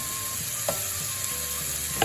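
Red curry paste fries in hot oil in a pan for a Thai stir-fry with chicken and bamboo shoots, a soft, steady sizzle with a few light clicks of a utensil against the pan.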